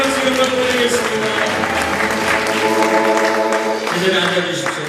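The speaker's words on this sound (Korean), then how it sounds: "우리 살아계신 하나님께 박수 영광 드리겠습니다" A church congregation claps throughout, the applause blended under ongoing music and voices in a reverberant worship space, steady and loud for the whole stretch.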